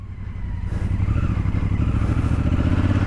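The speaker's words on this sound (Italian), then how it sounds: "Considerate che sto guidando una moto da 230 kg." A 230 kg adventure motorcycle on Dunlop Trailmax Meridian tyres rides off-road, its engine rising from a low rumble to a loud, steady pulsing drone with some clatter, close and alone.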